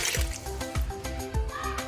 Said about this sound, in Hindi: 1 गिलास पानी का शामिल करेंगे